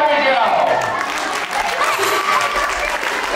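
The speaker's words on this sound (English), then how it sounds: "Give him a big round of applause" A museum magic show audience breaks into continuous, full applause, a loud dense patter of many hands with some cheering voices mixed in, holding steady throughout.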